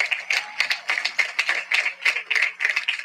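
An audience at a graduation ceremony claps in a quick, uneven patter of distinct hand claps that stays moderately loud for about three seconds, with no voices.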